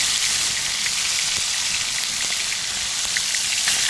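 Water boiling in a frying pan over a campfire while out fishing makes a loud, steady hiss and crackle that runs unbroken throughout, with no voices.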